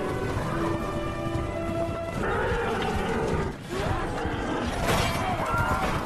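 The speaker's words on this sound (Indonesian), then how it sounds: "ia menyuruh pasukan berkuda untuk maju," Cavalry horses charge into battle in The Chronicles of Narnia film, a dense, loud, continuous mix of pounding hooves and whinnies with battle din throughout.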